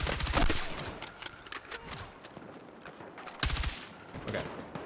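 Gunfire in an M4A1 first-person shooter game, with bursts of rapid shots from behind, the loudest run at the start and another later, amid continuous gameplay noise.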